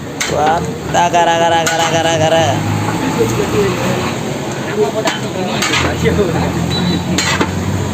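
A large pot of dum biryani being stirred, with scraping and clanking of a metal spoon against the pot over steady background noise and people talking nearby.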